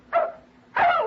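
Two short barks from a dog in an old-time radio drama, a quick first yelp then a louder, fuller bark a half-second later, close and clear with no talk over them.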